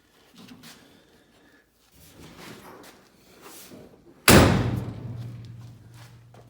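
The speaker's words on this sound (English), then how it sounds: "And then when you shut the trunk, let me find the pieces of weather strip so it shuts somewhat evenly." Near the end comes one loud, sharp slam as the trunk lid of a twin-turbo Hemi Superbird drag car shuts, ringing briefly afterward. Quieter handling noises come before it.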